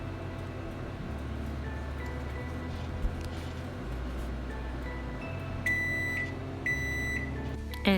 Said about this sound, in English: Then microwave it for 40 to 50 seconds.